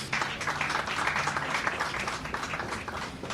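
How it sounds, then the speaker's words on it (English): At a graduation and awards ceremony, a crowd gives steady, moderately loud applause for graduates, with a continuous spatter of many hands clapping from a little distance throughout. "Let's give them a round of applause, please."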